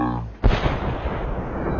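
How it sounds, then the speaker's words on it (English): A single loud gunshot from the Assassin's Creed Rogue video game cracks sharply after a brief lull, followed by a long, broad rumbling decay; speech-like game audio precedes it. "Shay looks towards the gunshot before there's a gunshot."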